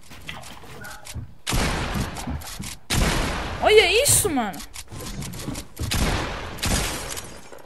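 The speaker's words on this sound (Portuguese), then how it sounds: "Eu erro todos os tiros, mano" Rapid bursts of gunfire from the Fortnite video game crackle in repeated volleys, while a player talks over and between the shots.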